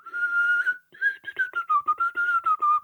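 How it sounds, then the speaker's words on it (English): Inward whistling, a tune whistled while breathing in, heard alone and close: a long sustained pitched note, a brief gap, then a run of short wavering notes with breathy edges. "give us a little inward whistle"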